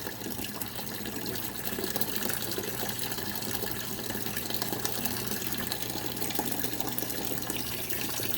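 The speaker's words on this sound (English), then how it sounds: "fast the water's coming out of there" Water rushes steadily out of an aquarium water-change hose, a continuous loud gushing flow with no pauses throughout.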